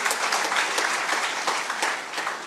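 A crowd at a political speech by Narayan Rane claps steadily, dense, continuous applause filling the space without speech.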